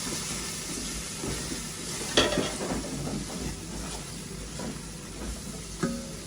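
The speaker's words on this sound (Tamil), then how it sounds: "பிரியாணி மசாலா, சேர்த்துட்டு நல்லா மிக்ஸ் பண்ணி விடுவோம்." Biryani masala is stirred into frying chicken and onions in a pan, giving a soft steady sizzle with scattered scraping clinks and a couple of louder utensil knocks.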